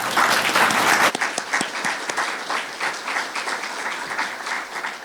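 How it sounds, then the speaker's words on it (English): Audience applause for panel speakers at a news-media conference session, a loud dense burst that eases after about a second into steady, lighter clapping to the end. "Can we give our speakers a round of applause?"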